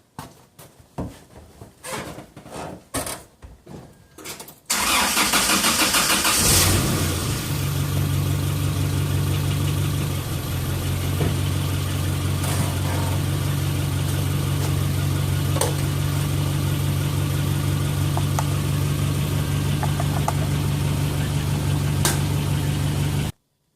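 A 2018 Holden Rodeo engine cranks with rapid starter chugs, catches and settles into a steady, loud idle that runs on for nearly twenty seconds, close and without talking.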